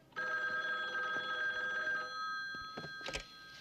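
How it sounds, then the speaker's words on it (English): A telephone bell ringing in a steady electronic trill for about two seconds, fairly clear and alone, followed by a clack as the receiver is picked up. "Ringing now."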